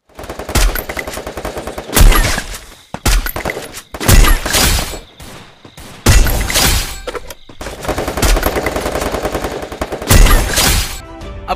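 Rapid automatic gunfire from the Raphael character's passive skill in Free Fire, a mobile battle royale game, plays in loud sustained bursts separated by short pauses across a busy game soundscape.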